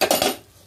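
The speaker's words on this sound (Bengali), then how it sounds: "ঢাকাটা একটু তুলে নিচ্ছি" A metal lid comes off a pot of mutton curry with a brief bright clink and rattle, close and sharp, fading quickly into quiet.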